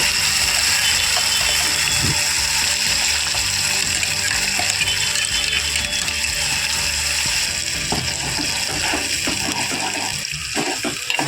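Ground tomato and onion chutney paste fries in oil in a pan, giving a steady close sizzling crackle with occasional clinks and scrapes throughout.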